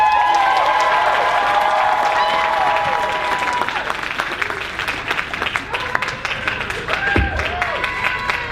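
An audience in a comedy show theater claps and cheers for a musical guest, loud sustained applause that thins into scattered individual claps, with an announcer's voice over the opening seconds.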